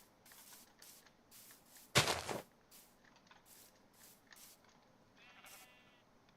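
A sheep bleats once, faint and brief, against quiet Minecraft footsteps and background ambience, following a short sharp rustle.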